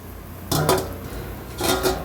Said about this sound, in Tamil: இப்போ தட்டை போட்டு மூடி வச்சுக்கலாம்